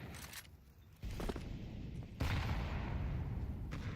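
Grenade blasts boom in sequence during a competitive Counter-Strike match, with three heavy thuds spaced about a second apart, each followed by a lingering rumble.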